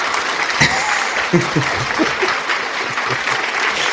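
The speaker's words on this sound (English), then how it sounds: "We got to find a new clapping sound effect." A burst of canned applause sound effect, steady clapping from a small group that keeps going for several seconds without letting up.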